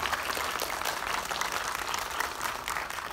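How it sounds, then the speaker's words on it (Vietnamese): Sustained crowd applause at a film premiere, a dense, even patter of many hands heard from a little distance, with no talking over it. "Tràng pháo tay thật to."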